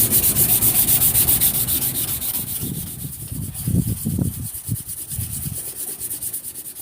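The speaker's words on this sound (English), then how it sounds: "I'm going to start off with some 320 grit wet dry sandpaper" Close rubbing of 320-grit wet-dry sandpaper on a lubricated metal saw-blade knife in short repeated strokes, a gritty rhythmic scrubbing that grows more uneven and pulsing partway through, with no talking.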